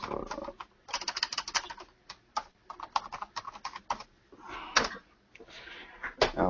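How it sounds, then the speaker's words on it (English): A password is typed on a computer keyboard in quick, uneven bursts of close, crisp key clicks separated by short pauses. "Enter the password."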